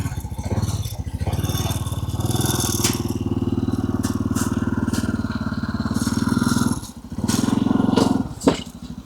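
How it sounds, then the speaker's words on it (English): A motorcycle engine idles nearby with a steady low, throbbing rumble throughout, dipping briefly near the end with a sharp clunk, as a person speaks occasionally over it. "So you're going to turn on the bike."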